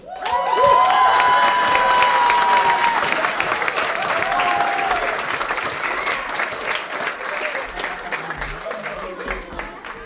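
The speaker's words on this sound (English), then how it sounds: "Big hand of applause to these courageous skiers." A crowd applauds and cheers warmly for a group of courageous young skiers. The dense clapping is loud at first and slowly eases, with a voice speaking over it early on.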